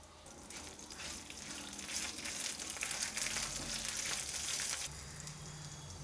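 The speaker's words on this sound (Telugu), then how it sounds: "ఇవి కొంచెం మనకి బ్రౌన్ కలర్ వచ్చేలా వేయించుకోవాలి" Steady sizzling of garlic and chillies frying in a hot pan, loud and continuous, then easing slightly near the end.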